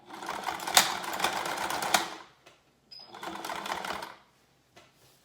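A sewing machine stitches a half-inch double-folded hem along the bottom of a window valance, running in two close, steady bursts separated by a brief pause.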